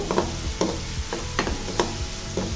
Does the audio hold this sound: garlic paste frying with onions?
yes